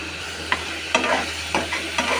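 Onions fry in a pan with turmeric and salt, a steady sizzle broken by a few distinct stirring scrapes spaced about half a second apart, close and with no talking.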